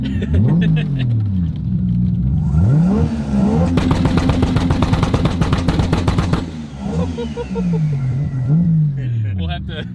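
A three-rotor Mazda RX7 with a 75mm turbo revs hard and loud, climbing onto boost, then breaks into a rapid machine-gun crackle of two-step pops before easing back to a rough idle, with voices talking over it.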